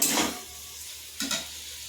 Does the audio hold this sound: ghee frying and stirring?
yes